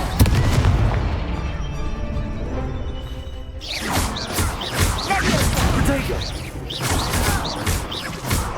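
Fiery Confringo spell blasts in Hogwarts Legacy combat, dense booms and whooshing impacts layered over game music and battle noise, continuous and loud throughout.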